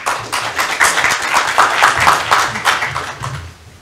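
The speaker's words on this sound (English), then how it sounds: "please give them a round of applause" Audience applause at a financial innovation summit, a loose, moderately loud patter of clapping hands that holds steady for a few seconds before starting to thin out.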